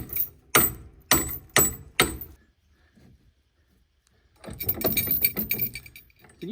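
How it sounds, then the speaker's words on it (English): Ignition keys jangle inside an abandoned Plymouth Valiant, four sharp metallic bursts close up, then a pause before a busier stretch of rattling and handling noise. "There's just 2 ignition keys."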